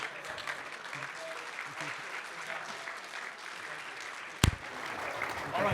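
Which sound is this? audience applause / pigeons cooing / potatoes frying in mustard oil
audience applause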